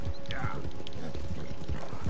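Rapid rhythmic clip-clop of horse hooves galloping in Red Dead Redemption 2, loud and close, with a voice talking over the hoofbeats.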